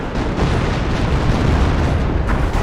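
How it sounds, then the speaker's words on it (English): Loud artillery shells land in a Company of Heroes barrage, a dense, continuous rumble of overlapping explosions with no pause, close and heavy, with no talking. "Artillery coming down. Now that it must be a commando barrage, perhaps an officer barrage."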